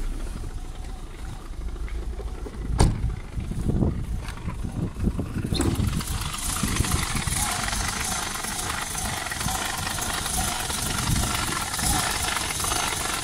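A BMW E34 525i with a 170 hp engine runs unevenly. A low, rough idle rumbles close by, then about halfway through it shifts to a louder, brighter, steadier running sound that holds to the end.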